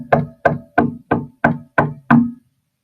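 Seven firm, evenly spaced knocks on a wooden door land about a third of a second apart, close and loud, each a short hollow thud, with silence after the last one.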